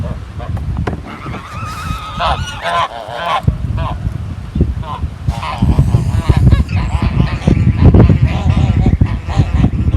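Several geese honk loudly and repeatedly, close by, over gusty wind and low rumbling noise, with a voice briefly heard.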